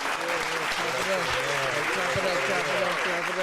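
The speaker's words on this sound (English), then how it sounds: "Clap it up. Enough claps." A small group claps for a guest arriving in a podcast studio, brisk scattered clapping mixed with a voice talking over it throughout.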